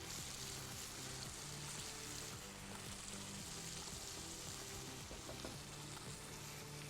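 Shinwari dumba mutton karahi frying in a pan gives a loud, dense sizzle that stays constant throughout, with faint stirring underneath.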